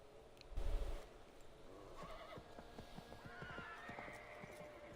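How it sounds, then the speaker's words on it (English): Horses in Assassin's Creed 3 let out a low snorting neigh, then clatter away, their hooves a quick, fading clip-clop. It is quiet and distant, set against faint ambient wind. "And she scared off the horses."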